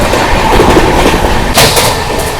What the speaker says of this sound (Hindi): ये देखो प्रयागराज एक्सप्रेस की स्किपिंग